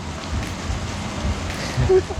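Rain falling outdoors during a rainy walk in Thailand, a soft, steady hiss with low rumbling underneath, close and continuous throughout.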